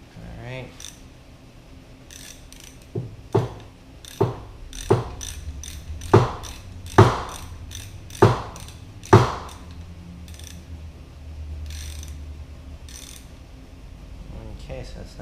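A bolt being tightened on a Toyota 4AGE engine's water pump during a rebuild, heard as a run of about eight sharp, close ratcheting clicks spaced roughly a second apart over low background hum.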